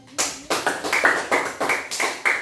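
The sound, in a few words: class applause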